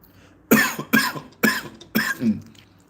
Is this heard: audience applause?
no